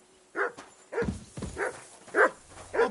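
Dog barking in the video game Kingdom Come: Deliverance 2, five sharp barks spaced about half a second apart, moderately close, with a few low thuds between them.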